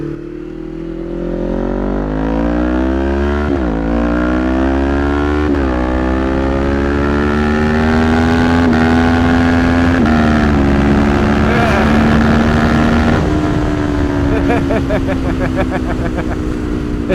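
A tuned 2025 Kawasaki Ninja 500 SE revs hard and close while riding, its rising whine climbing through several gears with brief dips at each shift, loud and continuous.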